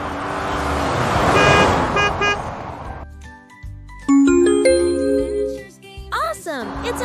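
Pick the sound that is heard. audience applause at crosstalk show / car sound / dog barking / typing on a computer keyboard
car sound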